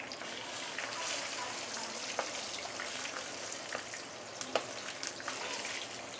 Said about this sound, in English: That's how simple it is to fry fish.